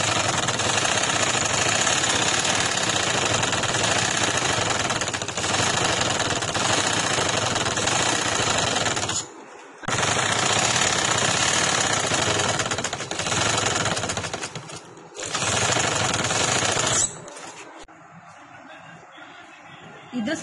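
Sewing machine stitching along the edge of a party-wear neck design backed with paper tape, a fast continuous mechanical clatter that stops briefly twice before dying away at the end.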